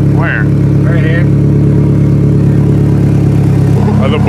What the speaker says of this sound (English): Exhaust leak.